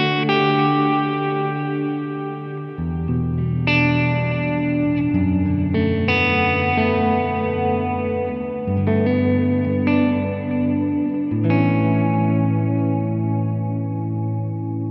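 An electric guitar runs through a Sonicake Matribox II Pro multi-effects unit set to an ambient reverb, playing sustained chords and ringing notes that bloom into a wide, washy tail. The chords change every few seconds and sound alone, with no talking.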